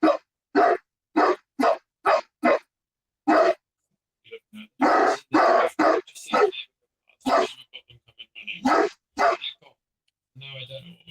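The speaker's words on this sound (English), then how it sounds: "what are you barking at?" Two dogs bark in sharp, repeated bursts at a neighbor's new dog, loud and close, with pauses and a few yips, while a person speaks to them in between.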